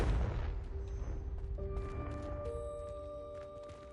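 A Confringo blasting spell in the video game Hogwarts Legacy detonates in a loud, booming explosion that decays into a rumble. Bright ringing magical tones linger over the fading blast.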